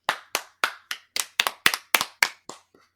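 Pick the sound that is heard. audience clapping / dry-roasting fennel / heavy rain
audience clapping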